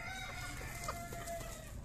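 Chickens cluck softly while being fed, with a few short clucks over low background noise.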